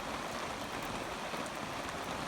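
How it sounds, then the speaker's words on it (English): Light rain falls on an open pasture near a creek, a faint, even patter and hiss continuing without pause and with no talk. "Well, it is raining. Not very much though."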